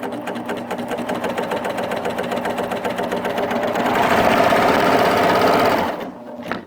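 A Baby Lock Applaud coverstitch machine stitches steadily with its wipers disengaged, giving a close, continuous rapid mechanical whir that grows slightly louder midway, then stops near the end.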